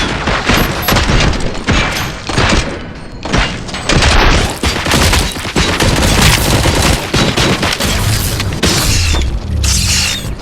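Multiple shooters firing in the video game Robocop Rogue City: dense, continuous volleys of overlapping gunshots and booming impacts, loud and close, with mechanical clanks throughout.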